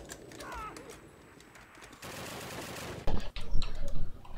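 Gunfire in the Call of Duty video game, with bursts of rapid shots and noisy crackling volleys, loudest toward the end, heard over the game's background sound.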